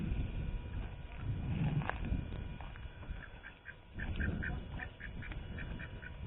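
A small flock of backyard ducks beside a garden swale gives a run of rapid overlapping quacks, fairly close and moderately loud, with louder bursts near the start and a chatter of lighter calls later.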